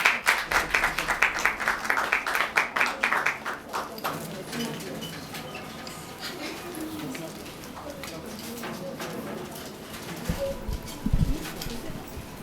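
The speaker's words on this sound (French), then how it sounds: "Sous vos acclamations" A crowd at a singing competition claps loudly for a contestant coming up to perform, a dense burst lasting about three seconds before dying away into softer murmuring and a voice speaking.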